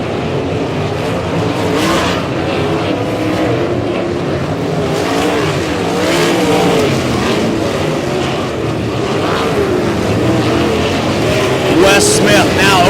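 Sprint cars roar around the dirt oval at Humboldt Speedway during a POWR WAR Sprint Car League race, a loud continuous engine howl with passing surges, while a commentator talks over it.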